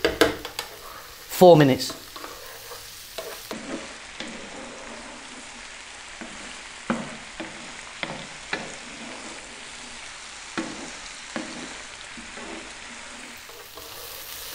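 Potatoes fry in a pan over medium heat, a quiet steady sizzle with soft stirring scrapes and a few sharp clicks, while a voice speaks briefly near the start.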